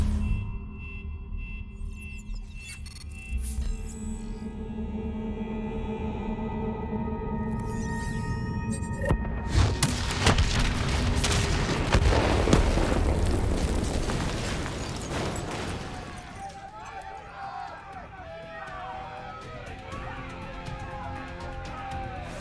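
A detonation in the Call of Duty Black Ops 3 video game: a loud booming blast erupts midway and rolls on for several seconds over a rising hum and game effects, then tapers into crackling debris.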